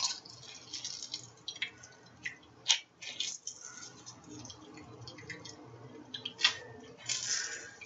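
Liquid is wrung from a cucumber by hand: soft wet squishes and faint irregular drips, quiet and close, with occasional sharper squelches and no talking.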